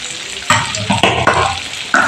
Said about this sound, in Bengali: টমেটোটাকে একটু ভালো করে ভেজে নিয়ে